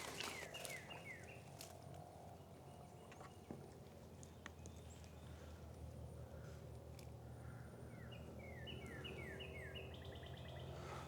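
Outdoors, small birds give repeated bright descending chirping calls in short bursts, faint and a little distant, while a downy woodpecker arrives nearby against a quiet rustling background.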